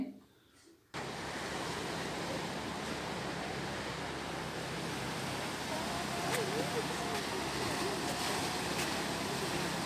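Steady, broad roar of ocean surf washing onto Kovalam Beach, continuous and fairly loud after a brief quieter opening.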